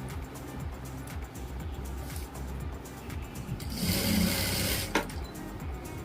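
A sewing machine stitches a diagonal seam on a Patiala salwar, running in a soft, quick whirring patter that swells briefly louder near the end, with a sharp click, fairly faint overall.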